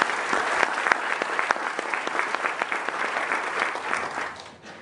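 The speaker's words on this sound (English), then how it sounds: "So you all deserve a round of applause." An audience claps in steady, dense applause from many hands, loud and sustained, then tapering off at the end.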